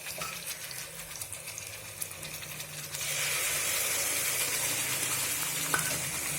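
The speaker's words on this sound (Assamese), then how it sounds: "সেইখিনি পিঁয়াজখিনি মই অলপ ব্ৰাউন হোৱালৈকে এনেকৈ ভাজি ল'ম।" Chopped onions fry in a pan as the base for a mutton curry, a soft sizzle that swells into a louder, steady hiss midway and stays close and continuous, with no talking.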